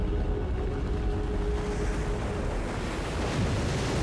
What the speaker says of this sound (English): he's just creating a waterfall